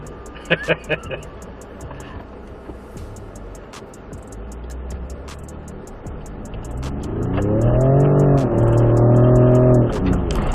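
A Ford Performance Raptor truck on an assault course in Salt Lake City, Utah: a few clicks and ambient outdoor noise, then the engine rises in a steady revving acceleration, loud and close near the end, with voices earlier.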